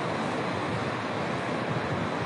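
Sea surf rushing at the cable car tower in Sidi Ifni, a continuous loud wash of waves and wind noise with no pauses or voices.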